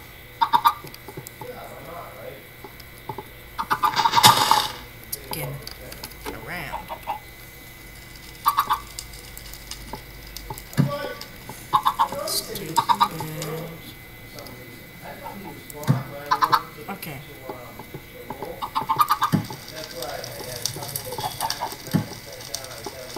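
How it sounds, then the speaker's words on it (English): Chickens in the board-themed game Boardcraft cluck in scattered, repeated bursts over a steady game background, with a person talking at intervals. "Stupid chicken alert!"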